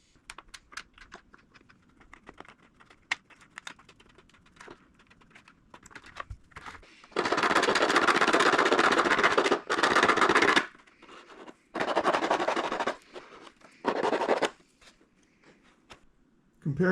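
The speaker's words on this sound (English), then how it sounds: "So I'll just keep cutting away with my scissors." Scissors cut a clear plastic canopy for an RC model plane, giving rough crackling bursts of snipping and scraping, several long strokes separated by quiet pauses with small handling taps, heard close up.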